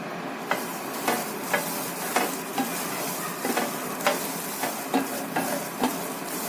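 Green peas dry-roasting in a pan, stirred in a brisk, regular rhythm: a spatula scrapes about twice a second over a constant crackling sizzle, heard up close with no voices.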